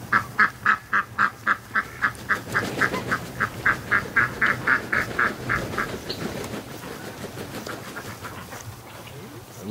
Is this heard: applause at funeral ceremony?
no